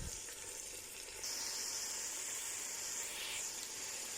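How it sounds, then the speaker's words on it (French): Tomato simmers in a pan for gombo sauce, giving a quiet, steady hiss and sizzle that grows slightly stronger partway through, with no talking. "Ensuite, la tomate. Et on va laisser mijoter un peu."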